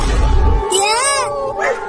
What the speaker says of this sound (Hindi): इसीलिए ये बिल्ली भी रो रही है।